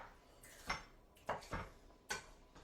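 A knife rough-cuts tomatoes for gazpacho on a board, giving four or five separate quiet chopping knocks at an uneven pace, close up, with no talking.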